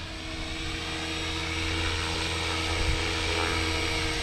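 A TRex 500XT RC helicopter on its maiden flight hovers nearby with a steady, loud rotor whine and buzzing motor drone that swells slightly in intensity throughout.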